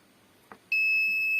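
An electronic buzzer on a smart plug fire device sounds when it detects smoke: a brief click, then a sharp, steady, high-pitched tone that starts abruptly and holds loud and close.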